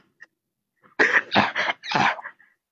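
A person coughs hard several times in a close, dry burst of three or four rough hacks, preceded by a faint throat sound, with no talking.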